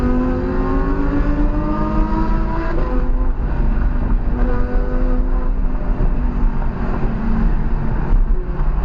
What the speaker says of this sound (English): Twin turbo sounds insane, man.